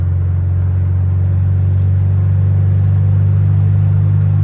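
Volkswagen Beetle (Fusca) running with a loud, steady low engine drone that holds constant throughout, close and continuous with no voices.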